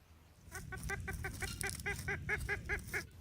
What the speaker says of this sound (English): the oldest living chicken on Earth